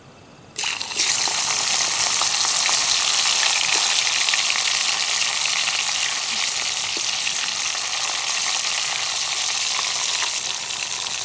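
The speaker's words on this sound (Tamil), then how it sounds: "இதில் நாங்கள் முதலாவது இந்த எடுத்து வச்சுருக்கிற கருவாட்டை ஒரு அரை பொரியல் பொறிச்சிடுவோம்" Dried fish sizzles and crackles steadily in hot coconut oil, being half-fried before going into a brinjal dry fish curry; a loud, dense frying hiss starts abruptly and continues without any voices.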